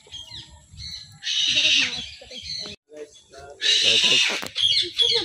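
Loud, harsh peacock calls ring out twice, high and nasal, with quieter chatter and background noise between them.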